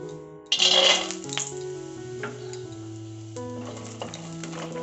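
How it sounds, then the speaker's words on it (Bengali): Peanuts are tipped into a well-heated pan, giving a sudden loud rattle and burst of sizzling that quickly settles into a softer, ongoing crackle of frying. "প্যানটা খুব ভালোভাবে গরম হয়ে গেছে প্রথমে আমি বাদামগুলো ভেজে নেবো"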